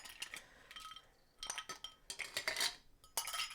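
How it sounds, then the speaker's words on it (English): Ice cubes dropped into a mixing glass for a gin cocktail, several separate bright clinks and rattles in short bursts, close and fairly quiet, with no talking. "putting my ice in here"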